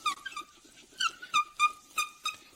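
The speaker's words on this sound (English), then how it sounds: "Might squeak a bit at the beginning, you can hear it too." Polish and a hand pad squeaking on a gloss black car B-pillar with 180,000 km of wear, a series of sharp, high, rhythmic squeaks about two or three times a second, close and clear, with no talking.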